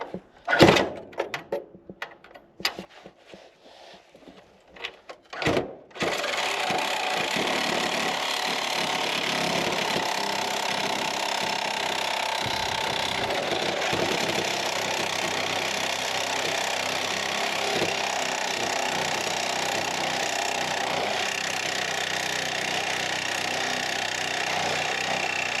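A Sawzall reciprocating saw bites into a truck frame beneath a lifted cab, starting after a few knocks and clatters, then running as a steady, loud, continuous buzzing cut close by.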